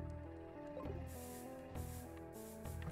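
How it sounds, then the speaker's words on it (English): A repel spray item is used in the Pokemon Reborn video game, heard as a short synthesized spray hiss over looping chiptune-style game music, repeating in a few bursts. "let me spray a repel or two"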